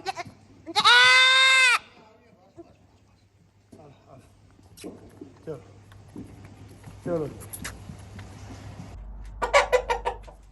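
A loud, wavering goat bleat rings out on a UK farm, followed by someone speaking over a low hum, then another bleating call near the end.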